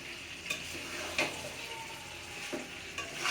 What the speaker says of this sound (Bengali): এখন এই সব মশলা ভালোভাবে মিশিয়ে নিচ্ছি।